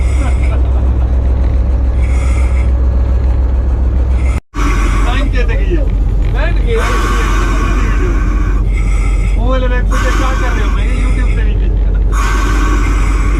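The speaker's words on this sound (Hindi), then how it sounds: "अब लोकोमोटिव जा रहा है टर्न होने के लिए टर्न टेबल पर।" A locomotive of the Mohenjodaro Express rumbles loudly and steadily as it moves onto a railway turntable in Pakistan to be turned, with short hissing bursts and someone talking over it.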